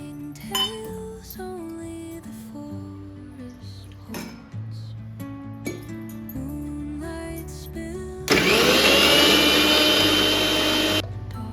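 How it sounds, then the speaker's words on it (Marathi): A kitchen mixer grinder whirs loudly near the end, blending soaked, peeled almonds with a little milk, after clinks of dishes and utensils over soft background music. "आता आपण छान थोडं दूध टाकून मिक्सर मध्ये बारीक करून घेऊया।"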